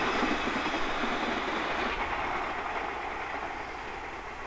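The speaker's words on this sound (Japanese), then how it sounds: "次は富山発小松行き" A train on the JNR Hokuriku Main Line near Isurugi in 1983 rumbles past close by, a steady broad roar that slowly eases as it moves away, with no voices.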